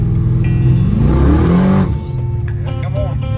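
A Chevrolet Malibu with a nitrous kit revs and accelerates hard on a dry road during a test run, its engine note rising loud and close before easing off as voices talk over it.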